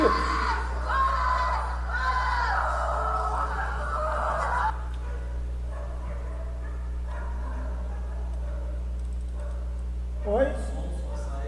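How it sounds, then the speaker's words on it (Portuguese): A congregation shouts in front of a pastor during a late-night church service. The voices are distant and heard through a recording, under a steady low hum, with louder cries at the start and another brief burst near the end. "É o pessoal gritando diante de um pastor que usou de um recurso"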